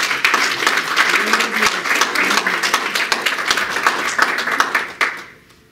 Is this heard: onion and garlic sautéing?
no